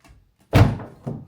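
The door of a Ferrari 488 Spider closes with one solid, close thunk, then a softer second knock a moment later, with no talking.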